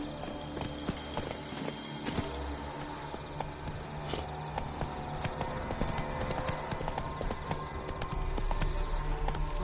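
Roach the horse gallops through The Witcher 3, hooves clip-clopping in a steady, continuous rhythm at moderate loudness, with no talk over them.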